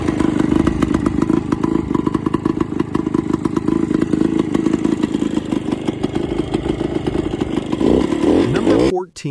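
Classic Suzuki two-stroke motorcycle engine running close up, a loud, steady, rapid buzzing idle with fast popping pulses that cuts off abruptly at the end.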